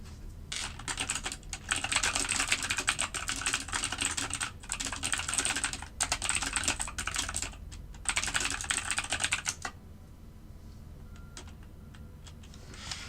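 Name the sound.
typing on a computer keyboard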